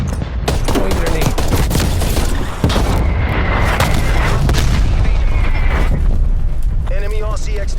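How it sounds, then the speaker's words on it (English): A grenade thrown and exploding in the Black Ops Cold War video game, buried in a continuous loud wall of gunfire, booms and artillery, with voices calling out over the battle. "Throwing grenade."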